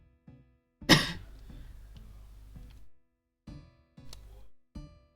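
A sick person lets out one loud, harsh cough up close that trails off into raspy breath, followed by a few short, quieter coughs and throat sounds.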